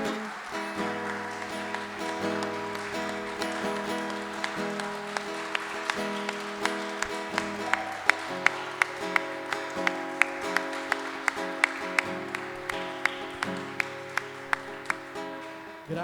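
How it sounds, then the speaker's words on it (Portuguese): A church congregation at a celebration service claps in a steady rhythm over sustained worship music, the sharp claps growing more distinct and regular in the second half. "Pode aplaudir ao Senhor"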